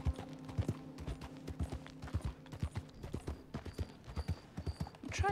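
Horse hooves clip-clop at a steady walking rhythm in a Wild West video game, fairly faint and even, with a few brief high chimes near the end.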